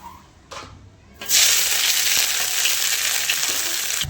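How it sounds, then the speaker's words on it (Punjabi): Carrots drop into a pan of hot ghee for carrot barfi, setting off a loud, steady, close sizzle that starts abruptly after a quiet moment and keeps frying evenly to the end. "ਘਿਓ ਆਪਣਾ ਹੋ ਗਿਆ ਗਰਮ ਤੇ ਹੁਣ ਆਪਾਂ ਇਹਦੇ ਵਿੱਚ ਪਾ ਦਾਂਗੇ ਜੀ ਗਾਜਰਾਂ"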